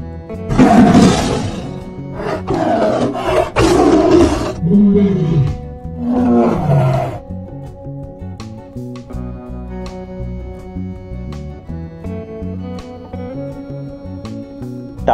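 Tiger roaring in an animal sound sequence, several loud, rough roars in close succession early on, then fading into background music.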